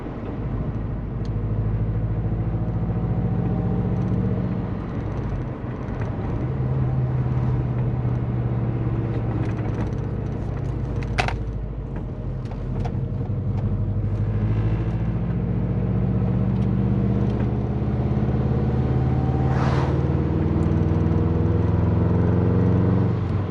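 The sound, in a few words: Subaru car exhaust while driving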